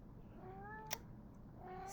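A house cat meows softly in the background, a faint, drawn-out call with a second quieter one near the end, under a steady low room hum.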